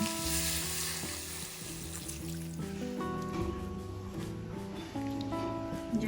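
About two cups of water poured into a simmering chicken stew, giving a steady soft sizzle and trickle. It plays throughout under faint background music.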